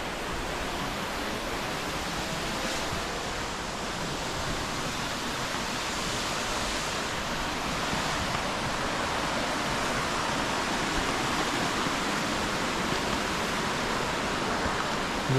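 Sahasradhara waterfall in Dehradun, in light winter flow, gives a steady broadband rush of falling water, constant and fairly close with no voices or other sounds over it.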